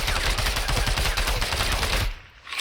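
Rapid automatic gunfire from a Scorpion submachine gun in the Minecraft Flan's Mod game, a dense continuous burst of loud shots that cuts off abruptly near the end.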